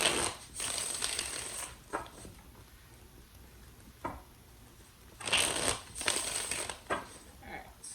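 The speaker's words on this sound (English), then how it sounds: "3 more shuffles for Pisces" Tarot cards are shuffled by hand in quiet bursts of riffling and rustling, with short pauses between the sets of shuffles.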